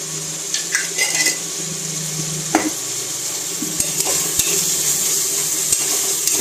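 Tomatoes and onions are mashed in a pan while cooking for a pressure-cooker mutton biryani, a low background sizzle broken by scattered utensil scrapes and knocks against the pan, with no voices.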